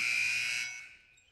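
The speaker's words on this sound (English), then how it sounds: "The buzzer went off." A loud electronic buzzer at a boys' varsity high school basketball game sounds once, a steady high tone that fades out after about half a second.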